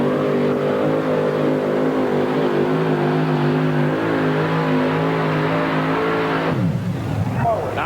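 A two-wheel-drive pulling truck roars at high, sustained revs during a 1991 NTPA truck pull in Chapel Hill, Tennessee. The engine's pitch drops sharply near the end, and an announcer talks throughout.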